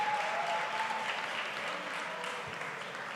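An audience at an awards ceremony gives a short burst of applause, a dense wash of many hands clapping, fairly soft and distant, fading slightly toward the end.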